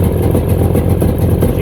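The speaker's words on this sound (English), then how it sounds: "She's idling a lot better." A 1995 Sea-Doo XP 951 personal watercraft engine idles close by with a steady, throbbing rumble after a primer was installed. The idle runs loud and even throughout.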